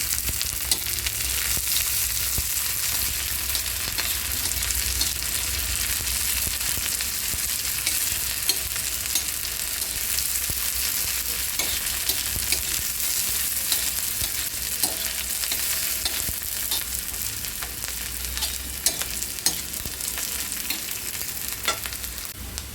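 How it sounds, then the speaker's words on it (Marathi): Onion and green chillies fry in a pan for a village-style rice-leaf vegetable dish, a steady close sizzle with scraping stir strokes running throughout, no voices. "आपला कांदा भाजत आलेले तर ह्यामध्ये आपण आपल्या मिरच्या ॲड करूया मिरच्या टाकूया आपण ह्याच्यामध्ये"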